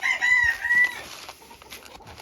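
Hens on a breeding farm clucking and calling with high drawn-out cries early on, then scattered softer clucks, near and moderately loud without talk.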